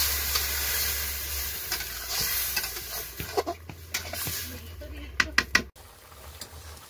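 Okra, potato and fish-roe curry frying in a pan, with a steady sizzling hiss and a few sharp clinks of a utensil as water goes in, the hiss dropping off afterward.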